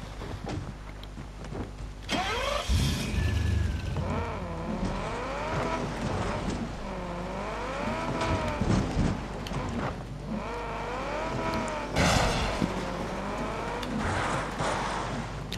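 Car engine in Far Cry 6 as a quick vehicle is driven hard: loud, close revving that climbs and falls repeatedly with gear changes, plus brief tire noise, continuous throughout.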